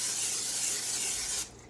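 Cooking oil sprayed into a hot pot, a single steady hissing spray that lasts under two seconds and cuts off abruptly, close and fairly loud with no talk.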